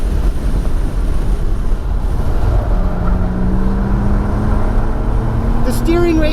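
A 2019 Lexus LS500 F-Sport lapping a racetrack, its engine a continuous in-cabin drone with a rising tone partway through, heavy road and wind roar underneath and a brief squeal near the end.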